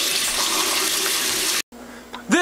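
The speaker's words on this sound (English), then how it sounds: "now he can just use his sink" Water runs from a kitchen sink tap in a steady, close, hissing stream, then cuts off abruptly, followed by a brief quieter moment and a voice starting at the end.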